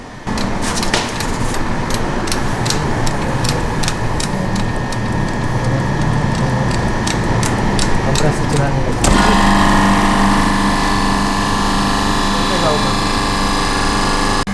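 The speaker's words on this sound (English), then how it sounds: "this is the compressor. It's a fast-cold 15 horsepower low back pressure compressor" A Fast-Cold 15 horsepower low back pressure refrigeration compressor for a freezer runs with a loud, steady mechanical drone and rhythmic ticking, shifting to a denser roar partway through, with a person talking over it.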